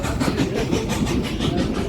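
D&RGW #484 steam train rolling on rails on the Cumbres and Toltec line, a loud, steady rumble with faint rhythmic clatter heard from on board, with no talk.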